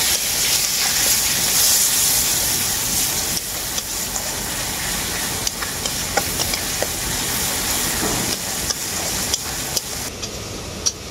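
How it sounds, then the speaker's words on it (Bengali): A yogurt-based spice paste sizzles and hisses steadily in a hot pan while being stir-fried for an egg curry, with scattered scraping and clinking of the spoon throughout. "মশলাটাকেও আমি খুব ভালো করে কষিয়ে নেব।"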